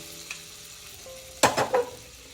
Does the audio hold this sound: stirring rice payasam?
yes